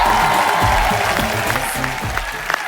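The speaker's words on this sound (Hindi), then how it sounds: "जोरदार तालियों से स्वागत होना चाहिए।" A television comedy show's studio audience breaks into loud applause with some cheering, a dense, close burst of clapping that tapers slightly over a few seconds.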